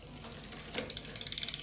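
A bicycle rear wheel spun by hand, its freewheel ratchet clicking in a quick, steady run of light ticks that speeds into a close, fast patter near the end.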